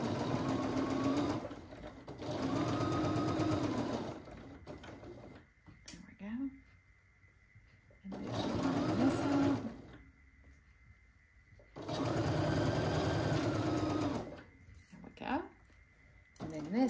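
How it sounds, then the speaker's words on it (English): Domestic sewing machine stitching a quilt, running in three loud bursts of steady motorized whirring with quiet pauses between, and a person speaking during the gaps. "That's me pressing on the presser foot while I'm trying to do the knee lift."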